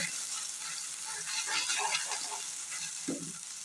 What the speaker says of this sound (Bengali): এখন আমি যে চিকেনটা মাখিয়ে রেখেছিলাম সেটা আমি দিয়ে ভেজে নেব